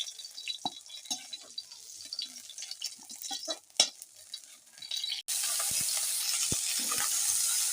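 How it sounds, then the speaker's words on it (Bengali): Drumsticks (sajne data) fry in hot oil, with light scattered stirring clinks and pops that give way to a steady, continuous sizzle in the second half, close and without voices. "ভেজে নিচ্ছি সজনে ডাঁটা, লাল করে ভেজে নেব"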